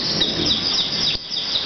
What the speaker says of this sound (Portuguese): E o canarinho canta.